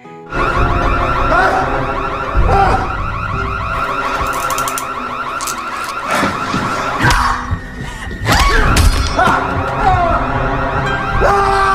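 A loud electronic alarm blares continuously, cycling through warbling, pulsing tones without pause.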